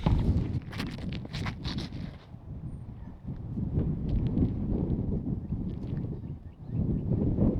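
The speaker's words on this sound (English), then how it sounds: "So the wind was definitely like left to right tailwind." Wind gusts across an open disc golf course in a steady low roar, loud and close to the microphone with buffeting, dipping briefly near the middle before rising again.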